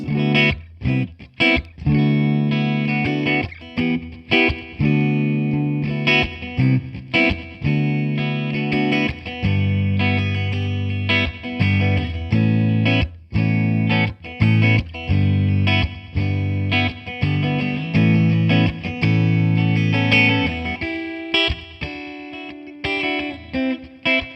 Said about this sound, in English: set the effect level really quite low so you're just getting like a wash of delays in the background